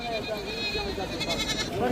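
Beetal goats bleat repeatedly at a busy livestock market (bakra mandi) in Dera Ghazi Khan, their wavering calls rising over constant crowd noise and someone talking nearby.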